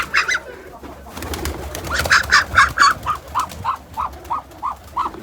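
Ducks calling close by at a village duck farm in a steady run of about a dozen short, evenly spaced quacks, with no talking.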